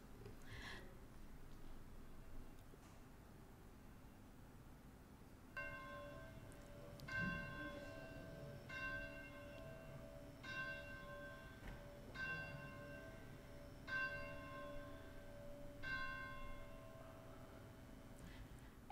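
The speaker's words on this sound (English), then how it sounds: "As the bell rings out, summoning people not only to worship but to God" A church bell rings out before Sunday worship, its strokes evenly spaced and lingering, moderately distant over quiet room tone, with no speech.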